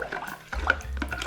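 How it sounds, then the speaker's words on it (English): Curing brine of salt and Prague Powder No. 1 is stirred in a bag for a chilli cured ham, giving a brief watery swish and slosh with a few soft drips. "I'm gonna just give that brine a quick stir again"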